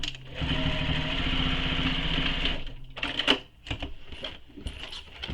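A sewing machine stitches backpack straps in a steady, close mechanical whir for a few seconds, then stops and gives way to scattered clunks and rustles as the fabric is shifted and handled.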